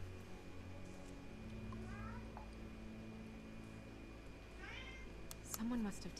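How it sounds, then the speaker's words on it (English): A cat in The Wolf Among Us meows several times in short, rising cries, fairly faint beneath a steady background hum, with a final louder meow near the end. "Is the cat meowing?"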